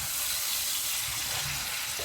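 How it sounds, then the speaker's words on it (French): Veal tajine with apricots sizzles steadily as it is mixed in the pot, a close, continuous frying hiss with soft stirring underneath. "On va bien mélanger le tout."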